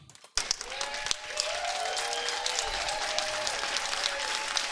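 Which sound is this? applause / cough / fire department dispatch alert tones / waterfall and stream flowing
applause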